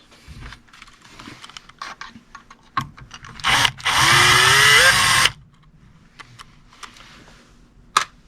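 Power screwdriver work on a Marantz 2275 stereo receiver: a loud, steady whir of about two seconds, bracketed by scattered clicks and small metallic handling knocks, close up with no talking.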